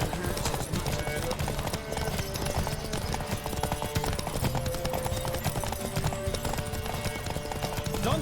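Horses gallop hard in a race in The Witcher 3, a steady rapid drumming of hooves running throughout, loud and close, with game music and voices layered over it.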